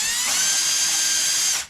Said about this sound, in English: Brand new drill bit